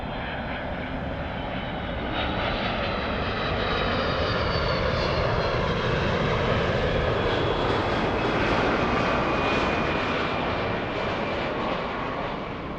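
An airliner departing Los Angeles LAX airport: a steady, loud roar of aircraft engines that swells slightly and holds, broad and continuous with a faint whine riding on top, no talk.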